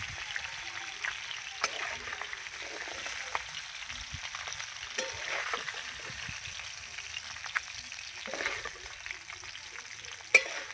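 Fried catla fish heads go into moong dal, heard as a low, quiet bubbling and stirring with a few soft clinks and splashes of a spoon against the pot, close by and without speech.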